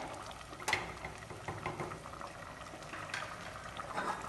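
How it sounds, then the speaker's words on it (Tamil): A pot of Tamil paruppu kari, a dal curry, simmers with faint, soft bubbling and occasional small pops, close by and alone. "குழம்பு வந்து 5 நிமிஷம் கொதிச்சிருச்சு."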